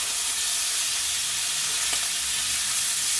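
Thin pork chops, just flipped, sizzle hard in hot oil, a loud, even, hissing crackle that holds steady for a few seconds with no voices.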